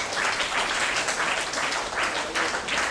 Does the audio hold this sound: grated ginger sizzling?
no